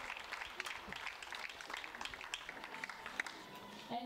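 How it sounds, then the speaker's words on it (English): Crowd applause at a mixed 50m rifle prone SH2 shooting final in Cheongju, a steady, moderate patter of clapping from spectators that continues evenly throughout. "a big round of applause from the crowd there"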